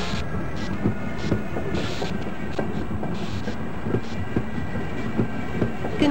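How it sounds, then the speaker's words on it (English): A tram train in the video game Half-Life rolls along with a steady mechanical rumble and regular clicking wheel beats, loud and continuous with no voices. "Press your forward and backward keys to increase or decrease the speed of the train."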